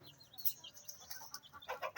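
Chickens and chicks in a home-raising cage give soft, faint clucks and chirps in a few scattered bursts, with no talk over them.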